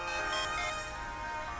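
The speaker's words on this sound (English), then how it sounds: "My cell's ringing." Cell phone ringtone in the video game Trauma Center: Under the Knife 2, a brief steady electronic tone with bright sustained pitches, heard alone and fairly quiet.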